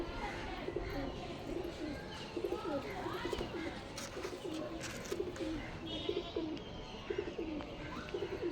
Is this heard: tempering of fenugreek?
no